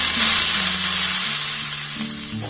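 Water splashed onto a hot, oiled dosa pan sizzles loudly and steadily, a broad hiss running the whole moment with faint tonal hum underneath and no voices.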